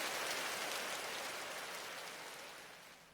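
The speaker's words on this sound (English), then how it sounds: "Why'd it have to rain?" Rain falls steadily in the video game Trails Through Daybreak as a broad, even hiss of drops on surfaces that fades slowly toward the end. No one speaks.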